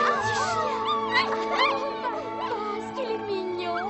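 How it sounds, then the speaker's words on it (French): A small puppy whimpers and yips in a string of high, wavering cries, close and fairly quiet, with a faint voice in the background. "Oh, le gentil chien."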